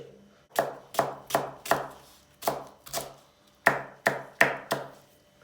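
A knife chops leeks sharply on a cutting board, about a dozen crisp close strikes in uneven bursts with short pauses between.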